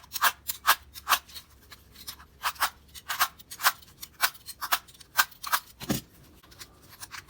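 A used Fram Ultra Synthetic oil filter from a Toyota, after 17,000 miles, being cut open with a tool in a series of sharp, close snips and clicks at a steady, uneven rhythm, then a duller thunk near the end.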